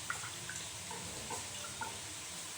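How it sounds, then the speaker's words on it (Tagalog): Water running from a tap as chili peppers are rinsed, a soft continuous stream with a few faint drips and splashes, fairly quiet and alone. "dito na rin natin huhugasan yung ating sili"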